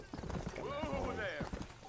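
Horse hooves clip-clopping in Red Dead Redemption, a steady rhythmic trot under continuous talk and game ambience.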